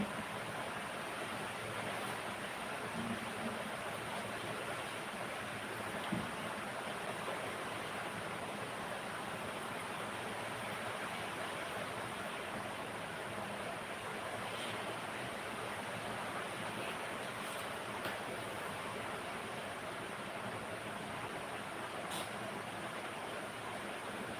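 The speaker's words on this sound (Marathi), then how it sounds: "पाऊस चालू आहे पाऊस चालूच आहे" Steady broadband rain hiss holds evenly from start to finish, a dense continuous patter with no voices.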